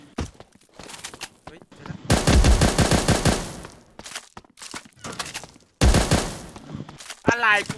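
Rapid bursts of automatic HK416 rifle fire from a shooter video game, loud and close, coming in two long volleys with short single shots between them, with players talking over it.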